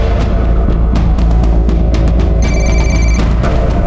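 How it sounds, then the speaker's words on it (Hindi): A telephone bell rings steadily and loudly inside a house for several seconds, a continuous electric trill filling the space with no voices. "घंटी की आवाज आ रही है अंदर से।"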